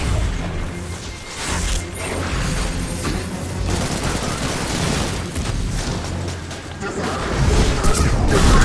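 Turrets firing in a video game make a steady barrage of shots, crashes and mechanical clatter that swells near the end, with a voice talking over the action.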